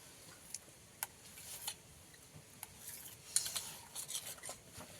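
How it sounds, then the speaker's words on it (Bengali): A knife or spoon cuts through a set pudding on a plate, producing faint, sparse clicks and taps of metal on the dish, quiet and close, with no speech. "এবার পুডিংটাকে আমি কেটে নেব।"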